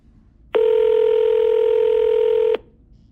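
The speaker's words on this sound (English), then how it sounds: "let's do another test call real quick, just so we can hear how quickly we change things." A phone dialing out on a test call to an AI receptionist for a pest control business: one steady two-second electronic tone, loud and clean, with quiet silence before and after.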